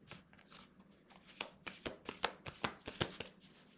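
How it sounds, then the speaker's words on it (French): Tarot cards are handled while a single card is drawn, giving a quick run of crisp card clicks and riffles that grow denser and louder midway, close and alone. "je vais prendre une seule carte"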